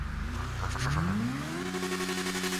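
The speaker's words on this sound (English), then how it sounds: "let me rev my engine." A motorcycle engine in GTA V revs up from a low idle, its pitch climbing smoothly and then holding at a loud, steady higher whine, close and with no talk over it.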